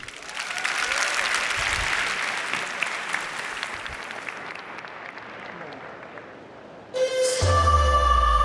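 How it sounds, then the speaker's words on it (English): Applause from a large audience at the Slush 2023 startup pitch finals, a dense, steady wash of clapping lasting several seconds and fading slightly before a loud musical stinger cuts in near the end. "Give a huge round of applause"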